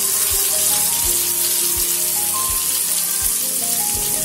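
Okra (bhindi) frying in a pan sizzles loudly and steadily throughout, a constant bright hiss with soft periodic thumps of stirring underneath.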